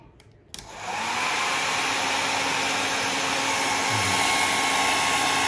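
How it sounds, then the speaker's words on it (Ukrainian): An Everest 2000 W hair dryer on its maximum setting, powered by an EcoFlow Delta 2 power station, switches on with a click and then roars with a steady loud whine and airflow hiss. "І наостанок це наш Everest фен на 2000 Вт."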